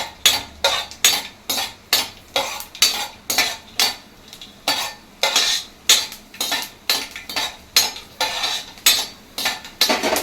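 Almonds frying in a pan, stirred with a metal spoon in quick, regular scraping strokes, about two each second, with a soft sizzle underneath and no talking.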